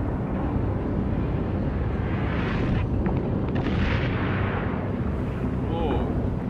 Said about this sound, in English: This thing exploding?